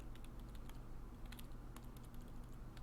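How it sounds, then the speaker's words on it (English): Eerie keyboard typing in the visual novel game Everlasting Summer, a steady run of quick, light keystrokes clicking close and clear over a soft background hum, with no voices. "You can just hear that eerie typing."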